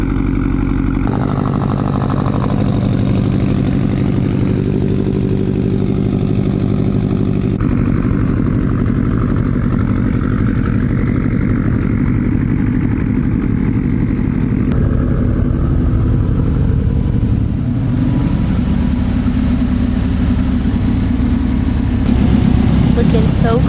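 Subaru STI running on ethanol with an FP Blue turbo, injectors and a high-flow cat exhaust, a deep steady engine and exhaust drone close by, with a person talking over it.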